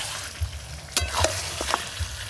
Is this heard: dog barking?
no